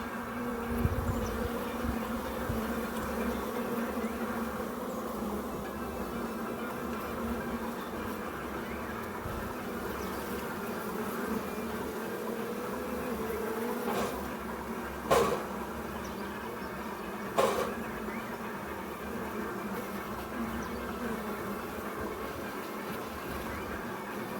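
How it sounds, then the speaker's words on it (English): Honeybees buzz steadily around a hive frame during an inspection of old frames, a dense, even drone filling the whole stretch, with a couple of brief knocks or handling sounds partway through. "watch them bees there for me in the meantime"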